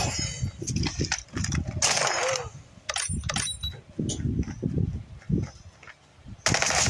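Sniper rifle quick-scope shot in the mobile shooter Call of Duty Mobile, heard among loud bursts of in-game gunfire and mechanical clatter, with a sharp crack near the middle and more fire at the end.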